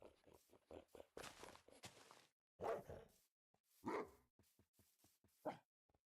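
Dogs bark in the Minecraft video game, sharp repeated barks in short clusters with brief pauses between, fairly loud and isolated.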